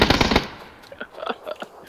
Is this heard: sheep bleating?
no